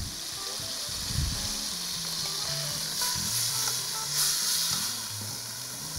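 A beef roast sears in a hot pan with a steady, close-up sizzle and crackle, lifting into brief louder bursts as the meat is moved and turned.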